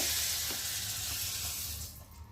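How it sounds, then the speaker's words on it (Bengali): Peeled boiled eggs fry in hot oil with salt in a wok, giving a loud, continuous close-up sizzle that fades slightly toward the end, with no voices. "আর ডিমগুলোকে ভালো করে ভেজে নেব"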